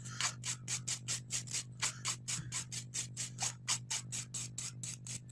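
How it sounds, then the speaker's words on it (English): Light buffing strokes of a 240 grit nail file across the top surface of a long acrylic nail, a steady rapid series of close, soft rasping swipes over a low constant hum. "I'm just going to really lightly buff out the top surface of the nail with a 240 grit file"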